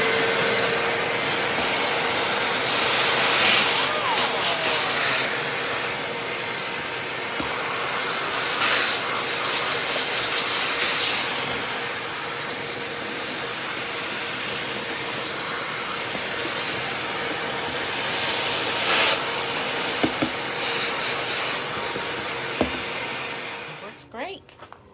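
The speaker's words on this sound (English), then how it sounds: "this is a little shop vac Joe got me" Small shop vacuum running continuously with a loud, steady whooshing hiss and whine up close, cutting off abruptly at the end.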